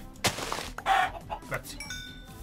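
Chicken clucking in the video game Minecraft, a few short clucks and squawks spread across a couple of seconds, close by with faint game noise between.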